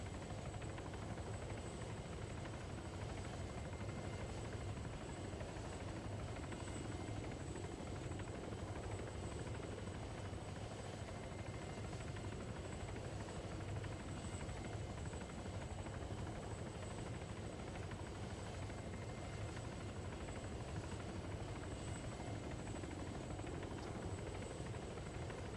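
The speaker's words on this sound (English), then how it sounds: "See, now I can go to the helicopter and remote control it." A helicopter in the Arma 3 game, a steady continuous rotor and engine drone at low level throughout with no voices.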